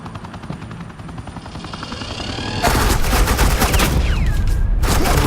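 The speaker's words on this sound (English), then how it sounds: "Suppressing fire." Automatic gunfire in the video game Batman: The Enemy Within, rapid rattling bursts over a droning rotor-like hum, growing suddenly louder and denser midway, close and intense with brief pauses.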